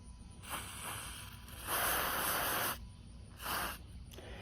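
Mass airflow sensor cleaner sprayed from an aerosol can on a 3rd-generation Toyota 4Runner, heard as several hissing bursts, one long steady spray between two shorter ones, close and loud with no talk.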